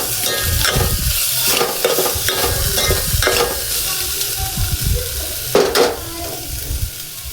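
Coconut, garlic and onion stirred together in an oiled pan, with a steady loud sizzle and repeated scraping, clattering strokes of a spoon against the metal, close up and without talk.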